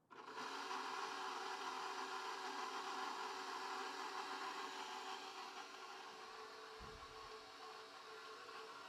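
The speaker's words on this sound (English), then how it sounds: "you want to make sure you start out with the dough hook. And we're going to mix it for maybe 2 minutes" A stand mixer with a dough hook kneads pizza dough, giving a continuous whirring motor hum that softens slightly toward the end, heard alone and without talk.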